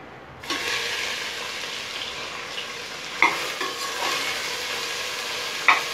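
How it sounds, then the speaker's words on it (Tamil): Finely chopped onions drop into hot oil in a pan for mutton curry and start to fry. A sudden loud sizzle breaks in, then settles into a steady, close frying hiss with a couple of sharp clatters of a spoon against the pan. "இப்போ நல்லா வதங்கினதும் இதில் வெங்காயம் சேர்த்துடலாம்"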